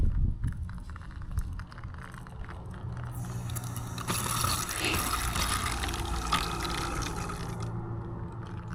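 Water rushes through newly connected plumbing during a water test in a bank building under renovation, a steady loud hiss and flow that swells midway and carries on with faint knocks and drips.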